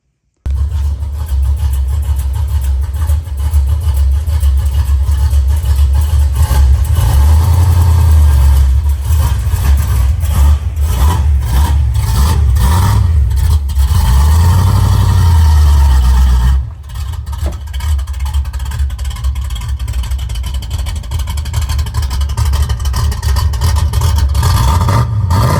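1970 Dodge Super Bee with a 440 engine running, a loud continuous rumble with a couple of revs swelling and falling, then a brief dip before settling back to a steady idle.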